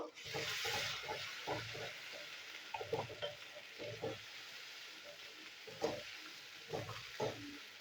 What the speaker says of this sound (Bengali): সব মশলা আমি একসাথে কষিয়ে নেবো।